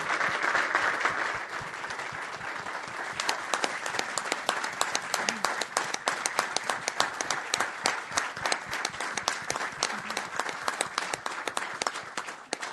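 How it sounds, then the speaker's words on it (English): An audience at a city council meeting breaks into applause after a motion carries. A brief swell of crowd noise comes first, then brisk, dense clapping continues steadily and fairly loud to the end. "Let's give them a round of applause"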